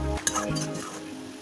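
Mochar ghonto with chickpeas, coconut, potato and ginger-chili paste being stirred in a pan, a brief close scrape and clink of the spoon over a soft sizzle with no talk.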